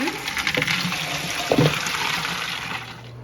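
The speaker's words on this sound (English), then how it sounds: "After you rinse the seeds, you're then gonna strain them." Cold water runs and splashes as pumpkin seeds are rinsed and strained in a bowl, a close gushing flow with a couple of sharper sloshes midway before it tapers off.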